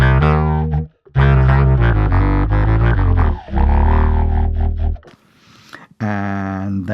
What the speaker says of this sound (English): here's the envelope filter added to the Octaver signal.